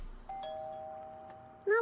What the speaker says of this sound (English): We'll just ring the bell because it's faster.